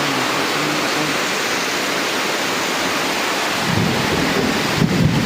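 Torrential rain pours down in a dense, steady roar that fills the whole clip, with low rumbles of thunder rolling underneath and swelling near the end; no voices.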